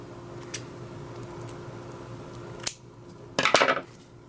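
Scissors snip through ribbon for a patriotic deco mesh wreath, with one sharp cut followed by a short burst of close crisp snips, over a quiet room hum.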